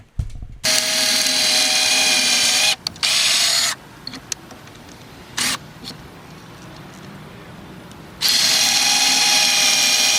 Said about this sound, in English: I then grab my drill with the Kreg Jig drill bit, and I drill using the Kreg apparatus